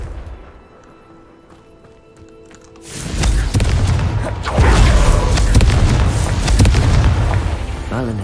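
A Confringo fire spell in Hogwarts Legacy detonates after a quiet stretch, a heavy booming blast that rolls on with rumbling bursts and crackling debris for several seconds.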